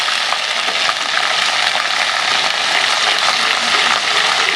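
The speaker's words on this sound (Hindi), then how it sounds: "लहसुन अदरक का पेस्ट बड़ा वाला, इसके अंदर शामिल कर देंगे। इसे हम थोड़ा मिक्स कर लेंगे।" Ginger-garlic paste stirred in a hot frying pan, giving a loud, dense, unbroken sizzle close up with faint spoon scrapes, and no voices.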